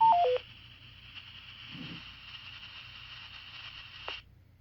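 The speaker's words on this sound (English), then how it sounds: "So you can hear that static in there. You can hear it in the background." Steady background static hiss from a Quansheng UV-K5 handheld radio on reception, continuous and fairly even for several seconds after a brief burst of dialing-like tones at the start, then cutting off near the end.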